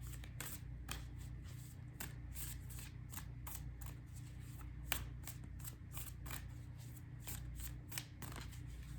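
A deck of tarot cards is shuffled by hand close up, giving a steady run of quick, crisp riffling clicks and flicks at a soft level over low room hum.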